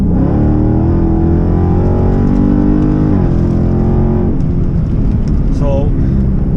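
Dodge Scat Pack with a mid-muffler delete exhaust punched hard up an on-ramp, a loud, continuous engine roar climbing in pitch through the gears with a brief dip mid-run, close and dominant throughout.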